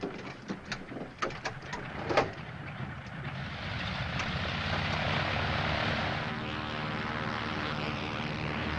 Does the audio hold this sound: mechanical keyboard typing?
no